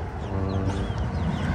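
Several hens on a small farm cluck steadily and close by, a continuous overlapping chatter of fowl that fills the whole short stretch with no talk over it.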